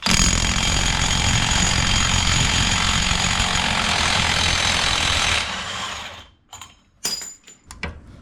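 An impact wrench hammers loudly and continuously on the axle nut of a Jeep Wrangler JK Rubicon for several seconds, then stops. A few sharp metallic clanks and rattles follow.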